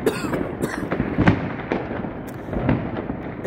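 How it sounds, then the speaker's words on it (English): New Year fireworks over New Orleans, a steady run of sharp bangs and crackling bursts at close to medium distance, with a dense, echoing rumble between the louder pops. "Celebrate and enjoy the sights and sounds of the fireworks."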